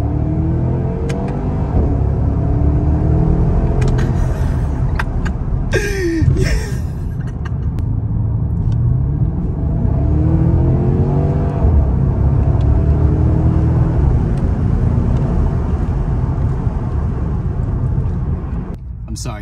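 A Porsche Panamera Turbo drives uphill in comfort mode, its engine a steady low rumble with road noise throughout while someone talks over it.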